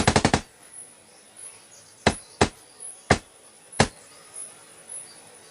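Gunfire sound effect: a rapid burst of four sharp shots, then four more single cracks spaced irregularly, loud and close, each with a short decaying tail over a quiet background.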